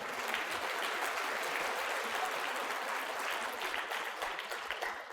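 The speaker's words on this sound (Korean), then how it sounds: "자, 방금 여러분의 박수는 어느 쪽이었을까요?" Sustained audience applause from a crowd at a Korean corporate HR and leadership talk, steady dense clapping filling the whole stretch without a break and with no voices on top.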